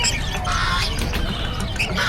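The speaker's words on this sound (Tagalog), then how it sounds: "Ang daming ibon dito kay Boss Marvin." Birds at the Bocaue, Bulacan pet market make a busy, steady chorus of nearby squawks and chirps that overlap continuously.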